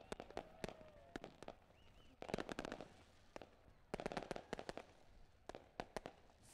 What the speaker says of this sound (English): A big shout out to Lone Wolf Fireworks, lighting up the sky here every Friday night.